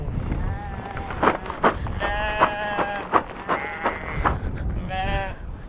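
Several sheep bleat repeatedly at a livestock market, loud, wavering calls rising and falling over a busy background murmur, with short gaps between bursts.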